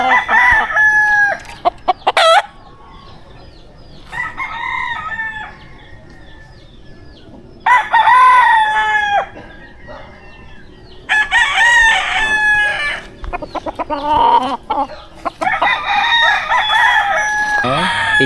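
Gamecock roosters crow repeatedly on a backyard farm, several loud, close cock-a-doodle-doo calls spaced over the stretch with clucking in between and some background voices.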